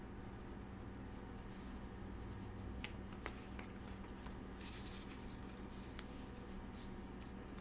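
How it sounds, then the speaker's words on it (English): Quiet, steady riffling of tarot cards being shuffled, with soft scraping and a few sharp little snaps. "while I finish shuffling"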